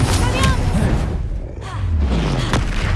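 Explosive Confringo spell blasts in the Hogwarts Legacy video game boom and thud through a noisy fight, with a brief dip in the middle before more impacts and a shouting voice.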